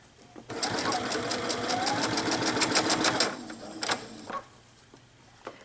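A sewing machine runs steadily for about three seconds, stitching seam tape onto feather trim for a 1960s-style dress. A few short bursts of stitching follow, and then the machine stops.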